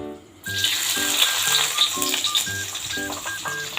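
Garlic drops into hot oil after onions in a home kitchen pan, setting off an abrupt, loud, continuous sizzle and bubbling that stays steady, with light background music running beneath it.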